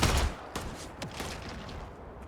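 Gunfire in the video game Starfield: a burst of rapid shots at the start, then several single sharp reports spaced out over a low steady background, fairly loud and with no talking.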